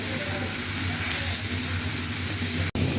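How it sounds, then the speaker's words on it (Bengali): Grated coconut fries in a pan for dudh puli, a loud, steady broadband sizzle with a low hum beneath and one abrupt momentary cut near the end. "এটাকে ভেজে নেব।"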